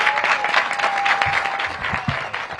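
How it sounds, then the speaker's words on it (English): Audience at a mayoral ceremony opening a permanent supportive housing building claps in a steady round of applause, close and fairly loud throughout the short burst. "a big round of applause"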